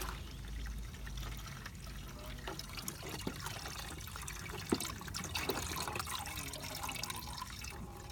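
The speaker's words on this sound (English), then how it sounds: "there is no coolant left. So now the bike is drained." Coolant draining out of a BMW S1000RR motorcycle with its hoses disconnected, a steady faint trickling and pouring of liquid throughout, with a few soft drips and knocks.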